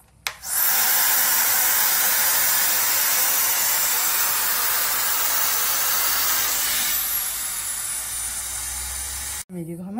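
A Celesta Airlisse hot-air hair dryer-straightener blows a loud, steady, close rushing stream of air for most of the stretch, then cuts off abruptly near the end.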